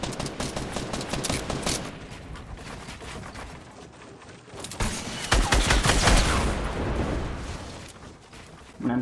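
Rapid bursts of gunfire fill a shooter video game, with dense overlapping shots and cracks that build into a heavy volley.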